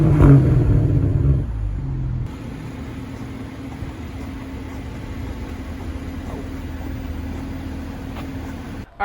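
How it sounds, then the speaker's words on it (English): A pre-production 2022 BMW M240i starts up with a loud burst of exhaust roar, then settles into a steady, low idling rumble nearby. "we'll get a little roar out of the exhaust pipes"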